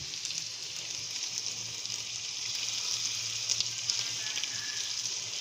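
Garlic sizzles steadily in a hot pan as it is stirred in with potatoes, a continuous close hiss with a few brief crackles and no talking.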